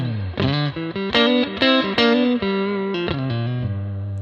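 Electric guitar strummed chords on the neck pickup of a Fender Custom Shop guitar, warm rounded tone with some distortion, several chord changes ringing out clearly with no voices.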